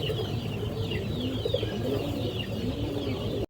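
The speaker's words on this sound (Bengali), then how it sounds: "এখানে কিছু কবুতর আছে, এখানে একটা মাদি কবুতর আছে।" Giribaz pigeons, including a female, coo in a busy loft, with soft repeated low coos overlapping steadily throughout amid other bird calls and general background noise.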